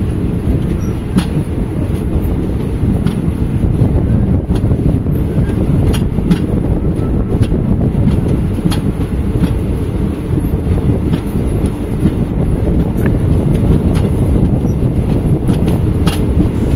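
The Circar Express runs on after leaving Tanuku, heading toward Bhimavaram. Continuous loud rumbling with scattered sharp clanks and some wind buffeting carries through the whole stretch, with no talk.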